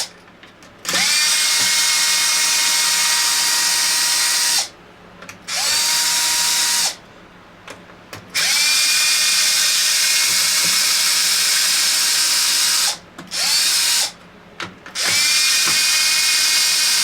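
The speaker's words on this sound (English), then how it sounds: "we're gonna start off by removing all these screws" A cordless power driver backs six long screws out of the rear of an 8S Traxxas X-Maxx RC truck, in several loud, close whirring bursts with short pauses between them and no talk.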